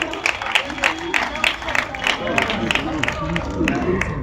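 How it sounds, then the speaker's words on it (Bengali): An audience at a district-level Joy Johar Cup 2025 event at a municipal boys' high school claps in steady rhythmic applause, with crowd murmur and voices underneath. "একটু হাততালি করুন"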